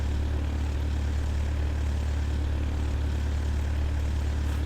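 Steady, loud drone of a small propeller airplane in flight, heard from inside the cabin, with a constant low engine hum and no talk.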